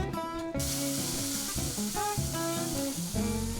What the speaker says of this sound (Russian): Варим на среднем огне до испарения жидкости.